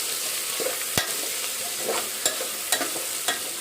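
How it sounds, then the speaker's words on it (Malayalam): Rice mixed with chopped ingredients is stirred in a sizzling pan, with steady frying hiss underneath and several sharp scrapes and taps of the spoon at close range. "എന്നിട്ട് നന്നായി ഇളക്കി കൊടുക്കാം കേട്ടോ"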